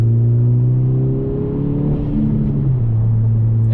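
A 10th-generation Honda Civic Si accelerates up a highway on-ramp, its engine note rising steadily through the rev range, then dropping briefly at a gear change before pulling again, heard from inside the cabin.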